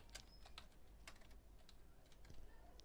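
A computer keyboard being typed on, with quiet, irregular clusters of key clicks close by, written code being entered at an uneven pace in a quiet room.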